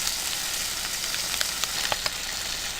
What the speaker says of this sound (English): we're going to cook this enough for the onions to caramelize a little